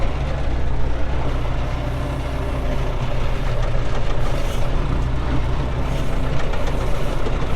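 A car engine drives in second gear as a loud, steady, close drone with a constant low rumble and no breaks.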